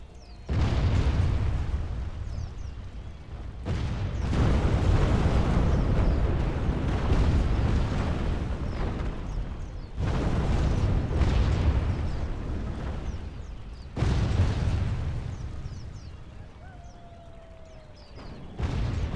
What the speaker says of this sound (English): My poor buildings here, taking the shots.